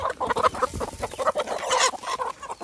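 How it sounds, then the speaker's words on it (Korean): Hens and chicks cluck and peep busily while pecking at scattered feed, a close, irregular chorus of short calls with soft scratching between them. "엄마다 1호하고 병아리들도 왔네"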